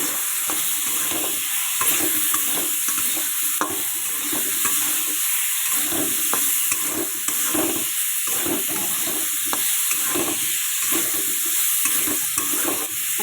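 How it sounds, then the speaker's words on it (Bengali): Tomatoes and green chillies fry in a pan while being stirred for a cauliflower and potato vegetarian curry, with a steady, close sizzle and regular scraping strokes of the spoon throughout and no talking. "ভালো করে নাড়তে হবে নাড়তে নাড়তে টমেটোগুলো পুরো ঘ্যাট হয়ে যাবে"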